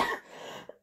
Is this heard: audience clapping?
no